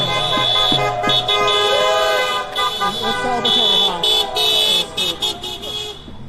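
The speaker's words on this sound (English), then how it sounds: "Celebratory honks." Car horns honk in celebration at a street gathering during a pipeline protest in St. Paul, Minnesota, with several overlapping toots and sustained blasts from nearby vehicles layered over steady crowd chatter and voices.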